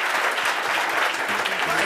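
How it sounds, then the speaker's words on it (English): An audience at a Nairobi mobile app demo event applauds after a presentation, a dense, continuous wash of clapping filling the whole stretch with some voices mixed in. "Round of applause,"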